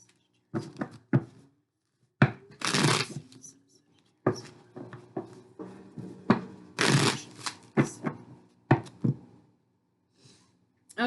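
Tarot cards shuffled in bursts of riffling and soft slaps, several separate shuffles spread over the stretch with short pauses between them, close up with no talking.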